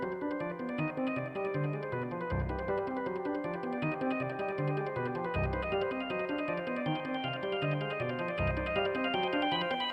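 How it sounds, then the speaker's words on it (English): Piano and organ playing together in a composed piece, a dense, continuous blend of held organ chords over rhythmic piano notes with periodic low bass swells, steady and moderately loud with no talk. "together, the piano and the organ sound like this."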